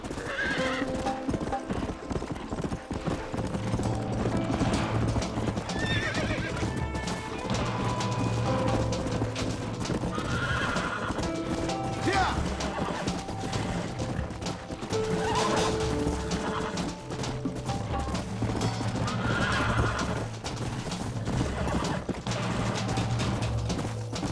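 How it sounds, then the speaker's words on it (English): In the Western video game Red Dead Redemption, horses clop steadily on hooves throughout with several loud neighs and whinnies breaking in, close and busy, over a faint background of game sounds. "Don't you lay a finger on them horses, mister."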